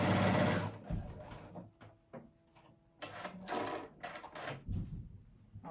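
A sewing machine zigzag-stitches elastic onto the edge of a dress top in bursts of rapid mechanical whirring and clatter. Short pauses separate the runs, and the sound is close, with no speech.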